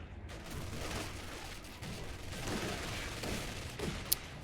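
An MG42 machine gun fires in the Company of Heroes 2 strategy game, heard as a sustained, dense rattle of automatic fire mixed with distant battle noise and a brief sharp crack near the end, without talk.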